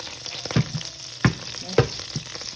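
Thin ribeye steak frying in melted butter in a small pan, a steady close sizzle with a few sharp crackles and scrapes, no voices.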